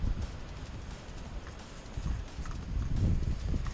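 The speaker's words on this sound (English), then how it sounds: "It's pretty windy." Strong wind buffets the microphone in uneven gusts near an old pier, a rough low rumble that swells and fades, with faint outdoor noise behind it.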